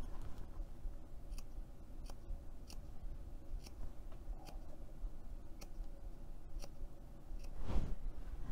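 Scissors make a series of small snips through fabric while sewing a storage bin. The crisp, close cuts come every half second or so over a low steady background hum.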